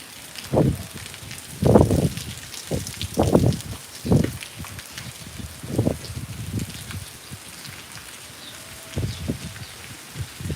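Continuous rain falls over the villages of Chokhanda and Jampar. A steady outdoor hiss runs throughout, broken by intermittent louder patters and bursts.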